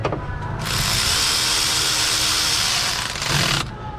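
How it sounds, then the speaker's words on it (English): An electric impact tool torques bolts into a plastic component with a metal boss, on a Dodge Ram Promaster antifreeze leak repair. One loud, continuous rattling whir runs for about three seconds, starting and stopping abruptly. "I'm gonna come back in with the electric and get some torque applied to them"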